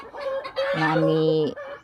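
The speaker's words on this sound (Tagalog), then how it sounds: "daghan kay mig manok" A rooster crows loudly and close, a long drawn-out call, with hens clucking softly around it beforehand.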